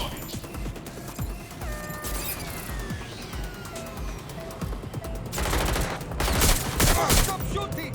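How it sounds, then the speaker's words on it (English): Game gunfire in Watch Dogs Legion: dense bursts of automatic shots and impacts over a busy mix, swelling louder toward the end. "Stop shooting!"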